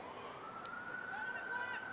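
Emergency vehicle siren wailing steadily at a distance during a high school soccer game, a sustained rising tone over crowd and field ambience.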